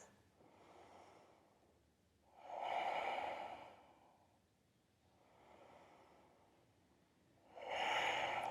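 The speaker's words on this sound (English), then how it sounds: "2 full breaths." Slow, deep yoga breaths during a morning vinyasa flow, alternating softer inhales with louder, rushing exhales in a steady rhythm, close and alone without talk.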